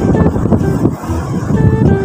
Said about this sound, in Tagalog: Lakas din ang hangin dito